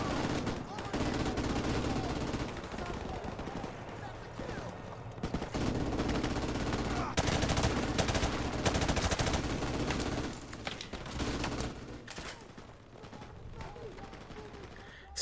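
Sustained gunfire in Call of Duty Modern Warfare Remastered, dense overlapping automatic shots and battle noise rolling on for over ten seconds with brief dips, fairly loud throughout, with voices talking over it.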